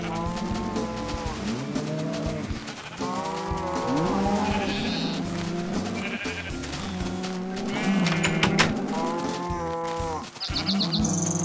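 Sheep in the Minecraft video game bleat repeatedly alongside lowing cattle, a dense overlapping chorus of animal calls that stays loud and busy from start to finish with no talking.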